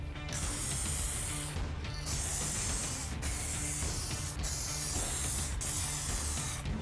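Spray paint goes onto a Ford F-150 Raptor fender flare in a loud, close, continuous hiss. It breaks off briefly about every second and a half between passes.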